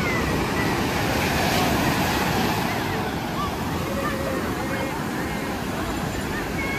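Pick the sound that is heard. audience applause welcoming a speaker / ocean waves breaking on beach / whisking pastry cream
ocean waves breaking on beach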